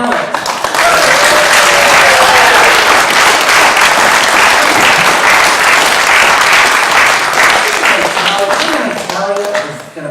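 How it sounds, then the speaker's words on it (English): Loud, dense applause from a talent show audience, a roaring wash of many clapping hands mixed with cheers and shouting voices that holds strong for several seconds before easing off. "One more round of applause for all the talent."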